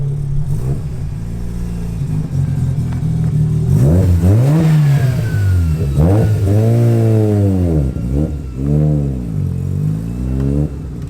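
A Nissan 350Z engine revving nearby around a corner, loud and throaty with repeated rising and falling sweeps of pitch as the throttle is blipped several times, no voices.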